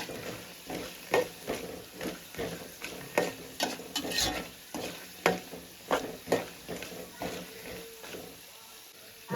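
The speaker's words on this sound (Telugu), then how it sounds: "పోపు అనేది వేయించుకోవాలండి." Tempering spices such as mustard seeds frying on a slow flame in a pan, a soft sizzle broken by rhythmic scraping strokes of stirring, faint and close.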